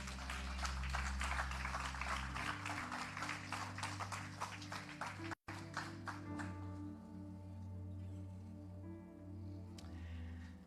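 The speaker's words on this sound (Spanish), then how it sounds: "¿Puede dar un aplauso fuerte al Señor?" A church congregation applauds during a Sunday service, a dense burst of clapping that fades after about five seconds, followed by a quieter room with scattered sounds.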